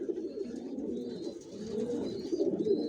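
Young racer pigeons coo repeatedly close by, soft rounded calls rising and falling in a steady run with faint chirps in the background and no speech.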